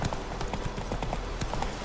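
Horse hooves clip-clop at a quick, even trot in The Witcher 3, close and rhythmic with no voice over them.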